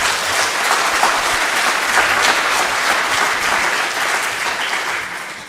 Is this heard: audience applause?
yes